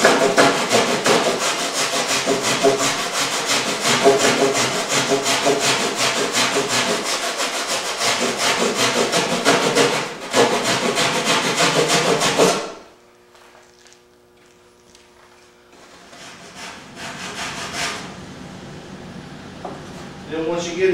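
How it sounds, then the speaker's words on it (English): A rasp files wood to fit a mannequin nose, giving steady, rapid rough scraping strokes up close for about twelve seconds, then a quiet pause before brief scraping resumes. "you're probably gonna have to rasp out a little bit in your arc because it's a little bit short"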